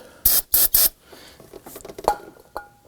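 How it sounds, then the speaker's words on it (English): Three quick, sharp hisses of spray solvent onto a rubber seal on a 2018-2024 Toyota Camry windshield washer reservoir, followed by soft rubbing and a couple of small clicks as parts shift. "If you spray this a little bit with some spray solvent"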